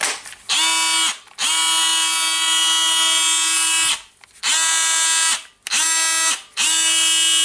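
A Dewalt DCS355 oscillating multi tool, just repaired after a burned-out terminal wire, runs in a loud, steady high buzz that cuts off and restarts several times in short bursts at close range.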